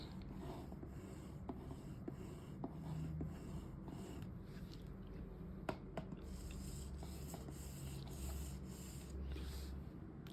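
A computer mouse glides back and forth across a Ninja RatMat Tou Japanese mousepad, producing a faint, soft, continuous scratchy swish with occasional tiny ticks, heard close and quiet with no talking.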